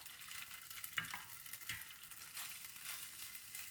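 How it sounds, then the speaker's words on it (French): Butternut squash tagliatelle sautéing in a little olive oil in a hot pan gives a soft, quiet crackle with a few brief stirring scrapes, heard close and without talk. "j'ai fait chauffer une poêle, à peine d'huile d'olive, c'est histoire de les faire revenir"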